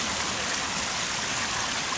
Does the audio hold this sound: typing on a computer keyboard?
no